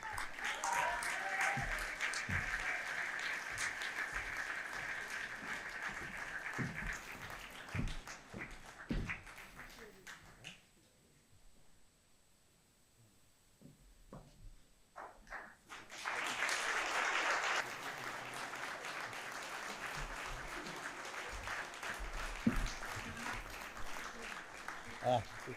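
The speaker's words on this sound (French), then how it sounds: "vous pouvez l'applaudir bien fort" At a municipal council installation, the crowd claps for the first deputy mayor. Applause holds for several seconds, then drops into a quiet pause and returns just as strongly, with voices mixed in.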